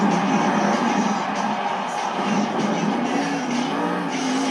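A Scooby-Doo monster truck roars continuously as it moonwalks across a ramp at an indoor Monster Jam arena show in Portland, Oregon, with a loud, steady engine filling the space and the crowd blending in behind it.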